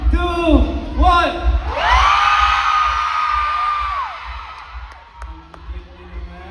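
A concert crowd at a solo pop performance cheers, whoops and yells loudly after a countdown, a sustained roar that swells and then fades into scattered shouts.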